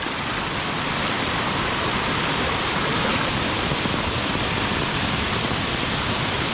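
Floodwater rushing over a road, a loud, unbroken roar of churning water filling the whole clip at a steady level, close by and with no voices.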